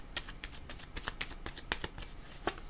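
Playing cards are shuffled by hand in a quiet fortune-telling reading, a quick series of soft riffling flicks and taps close by at low volume.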